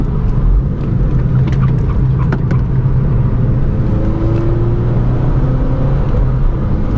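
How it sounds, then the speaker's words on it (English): Steady road noise fills the cabin of a 9th gen Honda Civic Si fitted with worn tires, a loud, constant low rumble and tire roar with a faint engine hum beneath it. "Pretty sure you guys could hear all that road noise"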